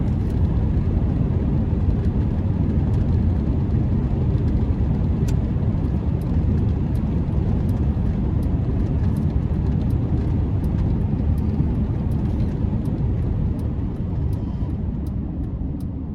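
A 2001 Chevrolet Silverado 1500 extended cab with a 5.3 V8 cruises down the road, a steady low engine and road rumble with wind noise, heard from inside the cab.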